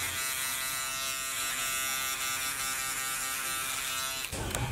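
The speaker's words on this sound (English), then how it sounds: "Right now I'm doing clipper over comb with my bald wall clippers." Bald wall electric hair clippers cutting hair clipper-over-comb style during a fade haircut, a steady close buzzing hum that runs continuously and then shifts briefly near the end.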